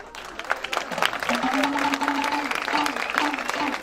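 A fashion week crowd in Saint-Louis claps steadily, dense applause at moderate distance, with a voice and some music-like tones underneath.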